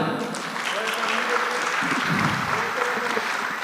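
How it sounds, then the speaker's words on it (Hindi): Audience applause at a hijama symposium in a Lahore hotel, a dense steady patter of many hands that stays at an even level throughout, with a voice speaking faintly underneath. "जी भरपूर तालियों में इस्तकबाल कीजिए"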